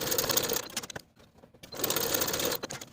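A sewing machine stitching a bodice shoulder seam at a 3/8 inch allowance runs in a fast, close whirring rattle, stops briefly for about half a second, then resumes at the same pace.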